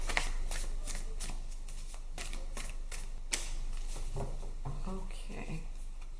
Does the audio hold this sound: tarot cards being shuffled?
yes